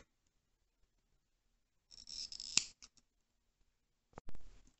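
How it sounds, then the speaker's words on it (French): Scissors snip through crochet yarn in a few sharp, close cuts, first a cluster of quick snips and then one more cut after a short quiet gap, with no voices. "Et je coupe mon fil."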